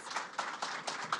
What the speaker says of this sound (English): we should give everyone a big round of applause